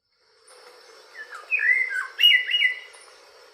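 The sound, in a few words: blue and white mockingbird call, recording played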